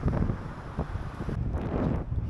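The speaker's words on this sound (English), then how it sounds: "Have now wind against me every time." Wind buffets the microphone of a cyclist riding into a headwind on a bikepacking tour along EuroVelo 1 in a European village, a loud, continuous low rumble with gusty surges.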